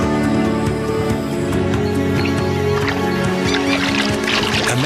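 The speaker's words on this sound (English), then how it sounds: "Birds return to branches that sheltered fish." Birds in the Amazon forest, returning to branches after the floods recede, call loudly with honking, duck-like cries over a dense, sustained tonal background.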